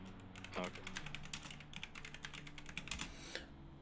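Computer keyboard typing in a quick, uneven burst of soft clicks lasting a few seconds, close and quiet over a low background hum.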